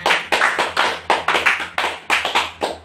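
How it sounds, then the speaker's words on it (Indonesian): High school class clapping together at the end of a lesson, about a dozen sharp, crisp claps in small rhythmic bursts with short pauses between them, close and clear with no talking. "Sekarang kita tepuk tangan untuk kita semua."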